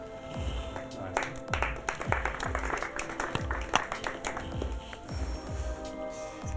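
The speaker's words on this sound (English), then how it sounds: "Let's give him another round of applause." Audience applause and clapping after a magic trick at a live magic battle show, a steady wash of dense claps running the whole stretch under heavy low thumping beats and some talk.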